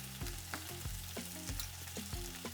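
Peppers and garlic fry in a pan for huevos rancheros, a steady sizzle with a few sharp stirring or scraping strikes at a regular pace, fairly faint, with no talk.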